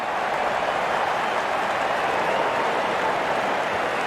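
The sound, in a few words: crowd cheering and applauding at cricket match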